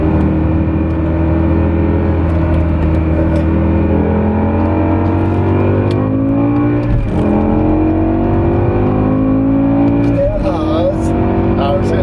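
A BMW E60 M5 with its V10 engine accelerating up a highway entrance ramp, a loud rising engine roar heard from inside the car, with two brief dips for gear shifts, and voices talk faintly over it.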